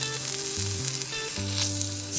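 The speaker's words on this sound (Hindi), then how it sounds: "अब आपको इसे दूसरी तरफ से भी तलना है।" Bread fries in a pan on its second side, giving a steady close sizzle with background music playing underneath.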